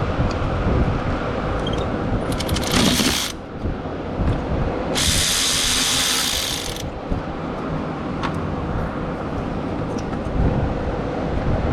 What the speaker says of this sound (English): we're just going to go ahead and remove these 2 10mm bolts and remove the thermostat